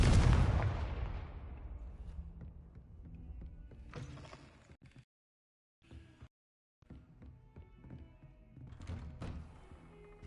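A Confringo fire spell from Hogwarts Legacy bursts with a loud, broadband blast at the start and then rumbles away into a fading decay. Softer thuds and mechanical clatter follow, separated by brief near-silent gaps.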